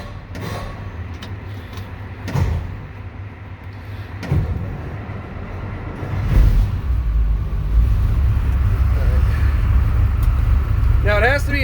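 A car engine on a cold start on a Christmas day: several cranking bursts from a struggling starter, then the engine catches and runs with a steady low rumble. Talk is heard over it.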